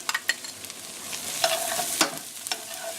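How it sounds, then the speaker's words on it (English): Garlic dropped into hot residual oil in a pan for hamburger steaks, crackling and sizzling close up with sharp spatters and a few stirring scrapes over about three seconds. "we're going to put the garlics in there."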